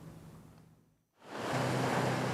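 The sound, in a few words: ocean waves at a beach in Ulsan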